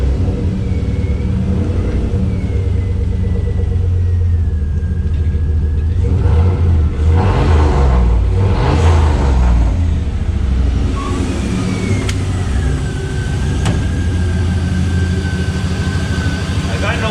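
A 1955 Chevy Bel Air fitted with a 4.8L LS turbo engine runs steadily with a deep continuous rumble, swelling briefly mid-clip, with faint voices in the background.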